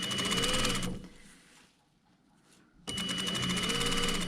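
Sewing machine stitching through canvas and pocketing on a tailored jacket front, a steady loud whir that runs, stops for about two seconds of near quiet, then starts again.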